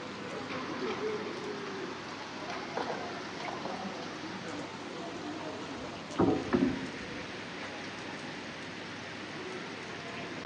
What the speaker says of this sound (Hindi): बारिश शुरू हो चुकी है, यू कैन सी।